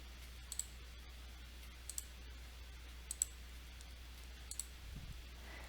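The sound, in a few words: computer mouse clicking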